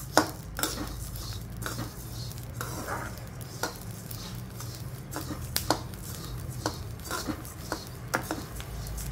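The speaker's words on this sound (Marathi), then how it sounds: "ते बघा असं हलवत राहायचं, असं भाजायचं चांगलं." Coriander seeds dry-roast in a pan, stirred continuously with a spoon that rattles and scrapes the metal in frequent clattery strokes over a low, soft sizzle.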